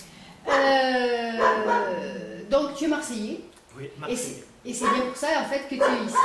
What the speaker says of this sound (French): ce que vous entendez en fait, c'est mon chien qui aboie